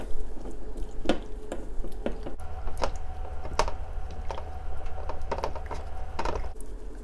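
A kimchi noodle marinade is stirred by hand in a home kitchen, with soft, irregular clinks and wet scraping as a utensil works around the bowl, close and fairly quiet, with no one talking.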